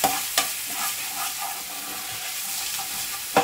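Finely chopped garlic sautés in a hot pan, a bright, steady sizzle close by, with a couple of sharp spoon knocks at the start and end.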